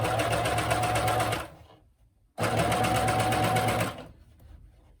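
A coverstitch sewing machine reverse-stitching inside a pair of leggings runs in two loud, steady bursts of rapid mechanical stitching, with a short quiet pause between them and a softer tail at the end.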